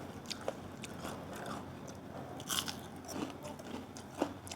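Crunchy fried snack bitten and chewed at a Filipino food-trip eatery, giving close, crisp crunches in irregular bursts with a sharper bite near the end, no talking.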